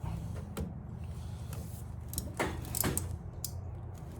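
Ratchet cutters click and snap through a cut in several sharp separate bursts, close and crisp, over a steady low rumble in the background.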